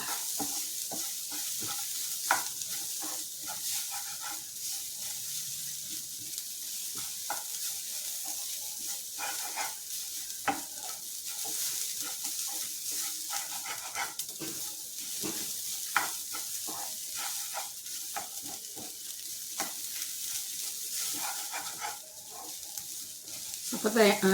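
Dry sizzling and crackling of cumin seeds roasting in a hot non-stick pan, with steady scraping stirs and occasional sharper pops, close and fairly quiet.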